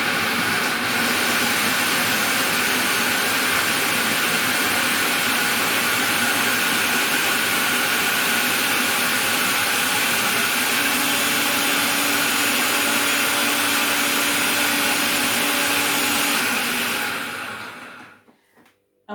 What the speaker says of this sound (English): if you're lucky enough to have a food processor like me, you just blitz it down until it's very fine